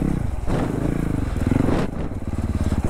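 A 2021 Honda CRF 450 RL dirt bike on new Dunlop D606 tires revs and bogs while riding, its pulsing engine note rising and dipping over a few seconds, with faint clatter.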